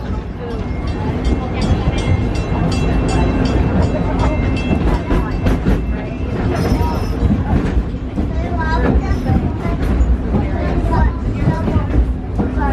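Wildlife Express train ride at Walt Disney World's Animal Kingdom heading to Rafiki's Planet Watch, a steady loud rumble with rhythmic clickety-clack of the wheels throughout, under a narrator's voice over the loudspeaker.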